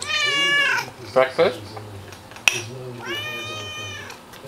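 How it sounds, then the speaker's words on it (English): A cat gives two drawn-out, insistent meows close to the microphone at breakfast time, with a short spoken question and a sharp clatter in the gap between them. "She's been meowing at me all morning."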